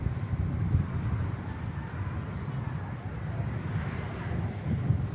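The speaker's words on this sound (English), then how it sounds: "the Kuwait A330-800 Neo coming in from Kuwait City" A Kuwait Airways Airbus A330-800neo arrives at Manchester on a windy day. The engine rumble is fairly faint and distant, steady and low, mixed with wind buffeting on the microphone.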